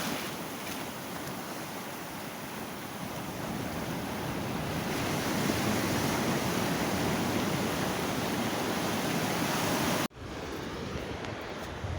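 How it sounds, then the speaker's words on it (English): Rough ocean surf breaking on a beach on a morning whiting-fishing outing, a loud continuous wash of crashing waves with wind buffeting, cut abruptly near the end. "Now I hope you can hear me over the waves here"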